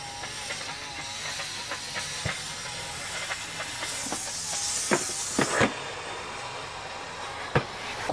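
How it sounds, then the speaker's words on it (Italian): A Hotpoint Ariston steam mop releases steam in a steady, moderately loud hiss, broken by a few sharp clicks and brief pops, with no talking. "una volta che parte il vapore"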